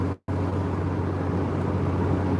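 Truck engine idles steadily during a winter warm-up, a constant low rumbling drone heard close, cut by a brief dropout at the very start.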